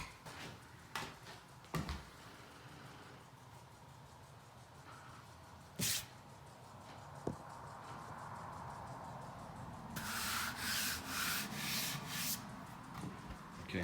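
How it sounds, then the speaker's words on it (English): Light hand sanding of a freshly coated butcher block countertop with 320-grit sandpaper, quiet scratchy rubbing strokes interrupted by a few knocks and taps, then a run of faster, brighter back-and-forth strokes near the end, with no speech. "I'm going to quickly light sand it with some 320 sandpaper."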